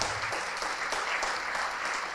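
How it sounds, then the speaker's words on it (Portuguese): Church congregation applauding steadily during an evangelical worship service, a dense, continuous wash of clapping from many hands, moderately distant and without pauses. "Vamos aplaudir mais ao Senhor Jesus."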